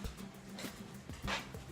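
Dogs let out at home make short whimpering yips and a few soft barks, moderately close, scattered over a steady low background hum.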